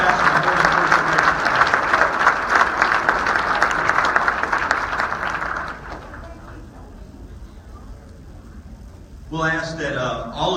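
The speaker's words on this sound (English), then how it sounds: "let's give this group a round of applause" An audience at a Pi Kappa Phi scholarship banquet applauds with dense, loud clapping for several seconds. The applause then thins and fades, and a voice begins speaking near the end.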